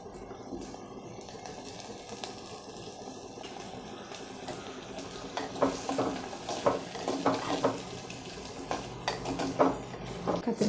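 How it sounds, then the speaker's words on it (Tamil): Chopped brinjal sizzles and fries in a pan with softened onion, a steady close crackle broken by scraping stirs and louder spurts of hissing; no one talks. "இப்போ வந்து நம்ம அரிஞ்சு வச்ச கத்திரிக்காவை போட்டுடலாங்க"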